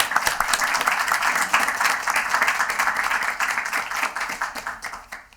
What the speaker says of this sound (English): let's give a great round of applause to our scholars